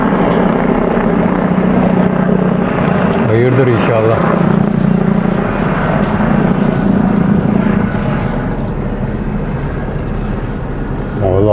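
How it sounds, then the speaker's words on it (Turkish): Two military helicopters flying overhead near a mountain village olive grove, a steady loud rotor rumble throughout with someone talking over it. "Bakın 2 tane askeri helikopter uçuyor."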